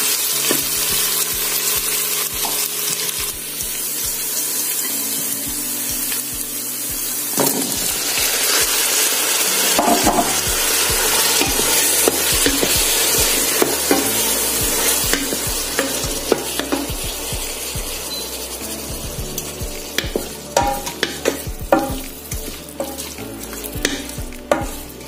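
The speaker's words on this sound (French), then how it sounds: "Je vais donc bien faire revenir la tomate et après donc je vais ajouter l'ail." Tomato and garlic sauté in a pan with a loud, continuous sizzle and frequent stirring scrapes and clacks of a utensil against the pan, with no talking.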